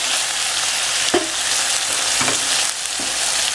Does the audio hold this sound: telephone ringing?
no